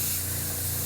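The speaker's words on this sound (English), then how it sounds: "spraying very, very thin coats of this light pinkish color" A continuous airbrush hiss, steady and close, with a faint compressor hum underneath.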